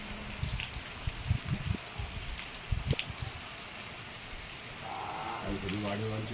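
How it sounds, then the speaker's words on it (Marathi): Heavy pre-monsoon rain in a Konkan village in May, with large drops striking nearby in irregular loud pats before settling into a steadier wash. "बघा किती पावसाचे मोठे मोठे थेंब पडत आहेत"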